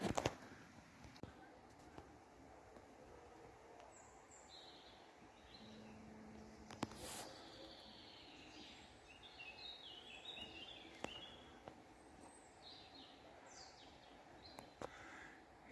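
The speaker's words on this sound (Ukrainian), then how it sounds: "Я трішки помовчав, щоб ви почули цей спів пташок." Faint, distant birdsong in a forest: scattered high chirps and short calls over a quiet background, with no talking.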